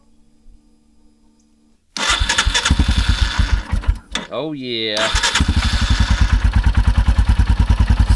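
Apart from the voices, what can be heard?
Royal Enfield Himalayan motorcycle engine starting and idling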